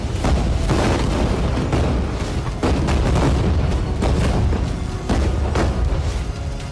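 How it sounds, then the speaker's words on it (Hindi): Dense, continuous rumbling blasts of bombs exploding during bombardment in Gaza, heavy low booms overlapping one another with sharper cracks every second or so, loud and unbroken. "कहीं एक साथ दर्जनों बम बरस रहे हैं।"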